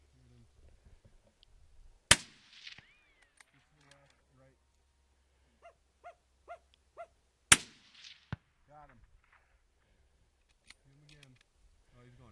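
Two loud, sharp rifle shots ring out a few seconds apart during a buck deer hunt. They crack sharply against a quiet outdoor background, while hunters talk in low voices between the shots.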